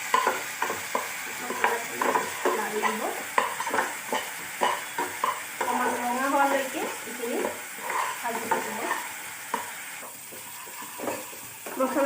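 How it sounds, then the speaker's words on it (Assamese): A paste of onion, garlic and green chili sizzles in hot oil left from frying fish, stirred continuously with scraping, clattering strokes over a steady fry, close and lively. "এই তেলতে আমি এতিয়া পিয়াজ, নহৰু আৰু কেঁচা জলকীয়াৰ পেষ্টটো এড কৰিম।"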